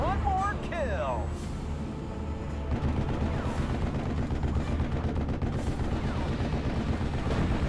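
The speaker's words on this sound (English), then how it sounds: "Thank goodness I've got plenty of artillery coming." Artillery barrage in Steel Division Normandy 44, a World War II strategy game set in Normandy: a dense, continuous roll of booms and crackling fire grows heavier midway, with radio-style voices talking over the din early on.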